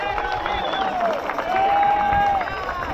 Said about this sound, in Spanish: ¡Aplauso para la banda que ya acaba de llegar!